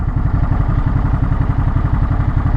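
A Ducati Monster motorcycle engine runs hard at full power, a loud, close, steady mechanical throb with rapid regular pulsing and clattering texture throughout, no voices.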